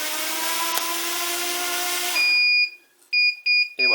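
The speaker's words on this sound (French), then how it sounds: "On voit que les moteurs se sont arrêtés et le buzzer s'active" FrSky D8R-II Plus receiver failsafe buzzer on a mini drone: after a motor whine cuts out, a shrill electronic beep sounds in short repeated pulses, close and clear.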